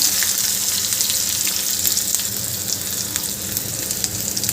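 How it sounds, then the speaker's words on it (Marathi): Onion fries in a pan for a red and green amaranth vegetable dish. A dense, steady, close sizzling crackle continues throughout, with scattered pops and no talking. "आणि हे आपल्याला छान परतून घ्यायचं आहे कांदा आपल्याला छान शिजवून घ्यायचा आहे"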